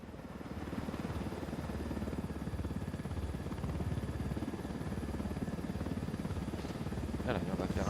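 A helicopter in Ghost Recon Wildlands holds a steady, loud rotor drone throughout, a continuous thrumming buzz with faint clicks near the end.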